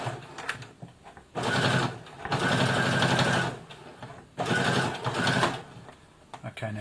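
Brother FS60X sewing machine driving its needle through three layers of denim in two loud bursts of fast, whirring stitching separated by pauses, with a few quiet clicks between and no talk.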